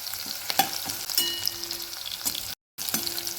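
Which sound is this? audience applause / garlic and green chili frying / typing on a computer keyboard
garlic and green chili frying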